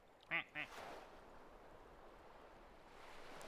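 A cartoonish duck in the video game The Stanley Parable: Ultra Deluxe gives two quick quacks near the start, then faint watery ambience carries on alone.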